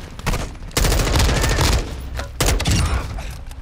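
Automatic gunfire in the video game Warzone 2.0 DMZ, loud close bursts of rapid rounds: a short volley, a longer sustained burst, then another burst after a brief pause.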